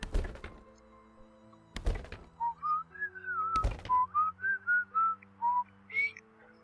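Game thuds of a wooden box being smashed apart in Project Zomboid: three sharp, heavy impacts spaced about two seconds apart, followed by a short run of whistled notes.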